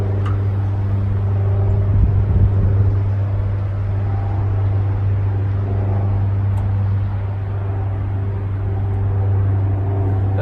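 A Case 580CK backhoe engine idling steadily up close, a low loud rumble that holds even throughout, with a brief extra clatter near the start.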